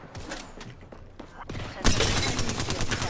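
Gunfire in Apex Legends comes in scattered single shots, then breaks into a loud, dense burst of rapid fire near the end, with some talk underneath.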